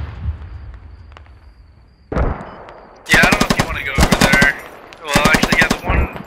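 PKP machine gun in the video game Squad firing several loud, close sustained bursts of rapid shots after a single sharp crack, with quieter background battle noise in between.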